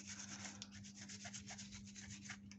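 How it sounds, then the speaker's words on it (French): A wire brush scrubs rust off a Peugeot 103 carburettor part in quick, rhythmic close strokes, a steady raspy scratching without talk. "on va mettre un petit coup de brosse métallique vite fait"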